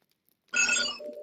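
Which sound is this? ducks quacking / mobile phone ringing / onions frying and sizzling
mobile phone ringing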